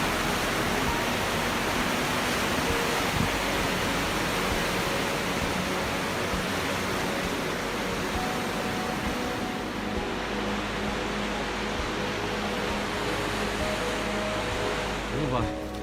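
A steady, loud broadband rush of river water along the Kungsleden trail in Sweden, flowing without a break, with faint voices barely audible beneath it.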